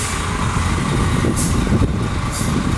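Heavy traffic jam on a road in Quezon Province with trucks and buses, a steady low engine rumble throughout with a couple of brief air-brake hisses, no talking.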